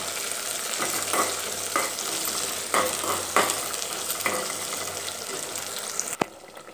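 Small onions and curry leaves sizzle as they sauté in a pan for a Pongal vegetable kootu. A steady frying hiss runs throughout, broken by several scraping stirs of a spoon, close with no talk.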